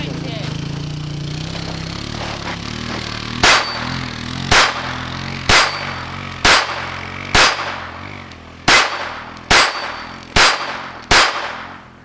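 Gunshots from a gun with a Primary Arms reflex sight fire one by one at a shooting range, nine sharp reports coming at a steady rhythm after a stretch of background noise, loud and close.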